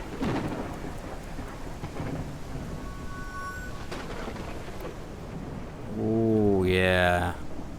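Night thunderstorm in an Old West game world, with steady rain hissing and rumbling thunder, and a rising, warbling animal-like cry near the end. No talk.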